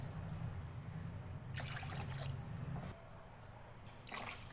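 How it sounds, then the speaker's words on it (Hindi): Water is poured from a glass into a pot of chicken yakhni soup base in a home kitchen, giving two short splashing bursts over a low steady hum, fairly quiet overall. "अब हम इसके अंदर पानी ऐड करेंगे, 4 से 5 गिलास।"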